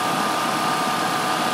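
The engine cooling fan of a Mercedes W202 spins fast on its viscous coupling, a steady loud whooshing roar mixed with engine hum and a faint tonal whine, continuous and close.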